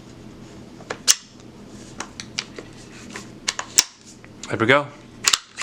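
Parts of a Ruger 10/22 Takedown rifle being plugged together by hand, a series of sharp metallic clicks and clacks at irregular intervals, close up, with a brief spoken remark near the end.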